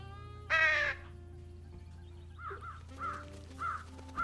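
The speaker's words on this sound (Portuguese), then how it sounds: "Eu ainda consigo chamar pássaros para aqui." Crows caw in the video game Trüberbrook, one loud harsh call followed by several softer caws at a steady pace over a low background hum.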